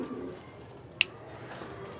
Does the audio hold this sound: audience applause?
no